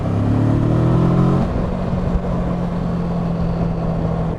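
Steady engine drone from a 2021 Kawasaki Versys 650 motorcycle while riding, with a higher rev note that drops away partway through, then an even cruising hum and wind rush.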